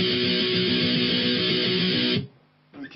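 Palm-muted single-note electric guitar line from the pre-verse B, tight chugging notes at steady volume for about two seconds, then a sudden stop and a brief faint pickup.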